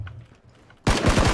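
Rapid automatic gunfire in the video game PUBG bursts in suddenly after a quiet moment, a loud close stream of evenly spaced shots that continues to the end.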